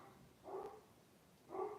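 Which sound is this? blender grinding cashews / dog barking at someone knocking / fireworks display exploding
dog barking at someone knocking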